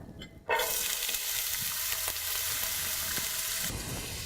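Chopped onions dropped into hot oil burst into a loud, steady sizzle that holds close and even, with a couple of light stirring knocks, easing slightly near the end.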